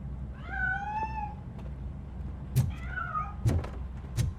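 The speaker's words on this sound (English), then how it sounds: "That cat must be hiding inside." A cat in the video game RoboCop Rogue City gives two drawn-out meows with a gap between them, alongside a few soft thumps and a low background hum.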